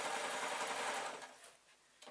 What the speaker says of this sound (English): I'm going to go over it with a zigzag as well